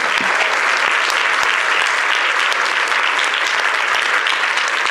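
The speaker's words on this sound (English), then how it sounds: "Let's give Lori a round of applause." Sustained, loud conference audience applause after a keynote at a resilience conference, a thick even wash of many hands clapping without pause.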